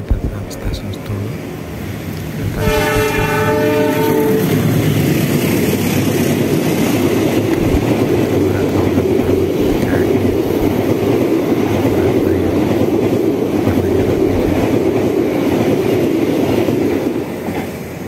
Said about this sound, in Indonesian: dari arah barat akan lewat kereta di depan perlintasan stasiun Sentolo